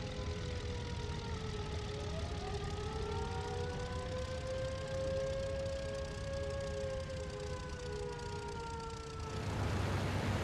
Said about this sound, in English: The air raid sirens going off, but I can't see the aircraft.